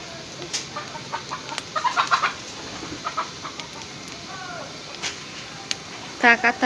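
Chickens cluck in short scattered bursts against a soft outdoor hiss, with a louder flurry of clucking near the end.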